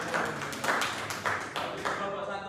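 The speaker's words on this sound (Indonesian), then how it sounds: "Beri tepuk tangan untuk kelompok 1." Classroom applause for a student group after their presentation, a burst of hand claps from a small class heard fairly close and steady for a couple of seconds, with no talking over it.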